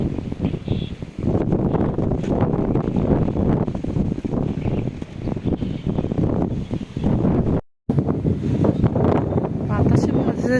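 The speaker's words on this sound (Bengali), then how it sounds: "অনেক জোরে সুরে বাতাস আসছে" Strong wind roars and buffets the microphone on a rooftop during bad weather in a steady, heavy rush, broken once by a brief moment of silence.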